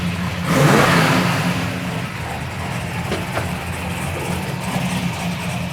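A 1970 Plymouth Superbee with a 426 Hemi V8 revs hard in one loud surge and then settles into a deep, rumbling idle, heard close by with no talking.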